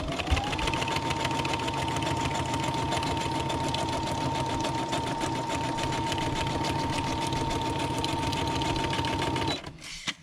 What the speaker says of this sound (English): doing some decorative stitching on the pocket just because